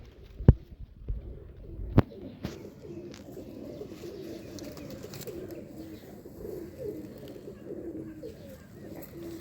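Pigeons from a fancier's loft coo steadily in the low range across the whole stretch, near and moderately loud, with a couple of sharp knocks or clicks early on and no one talking.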